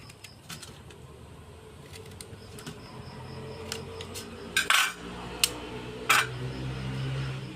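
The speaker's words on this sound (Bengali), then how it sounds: "স্লাইসারে কুচবো আমি" A carrot is grated on the small side of a handheld vegetable slicer in a home kitchen, giving soft repeated scraping strokes with a few sharper clatters of the slicer against a dish.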